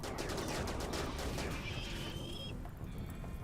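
Gunfire in the RimWorld video game, a rapid string of sharp shots cracking in a fast rhythm, fairly faint, ending in a thinner tail of quieter pops.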